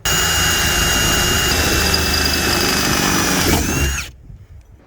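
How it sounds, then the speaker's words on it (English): A power drill drilling holes to mount a camper van solar panel whines steadily and loudly at close range for several seconds, then cuts off abruptly into near silence. "I'm about to drill all of the holes."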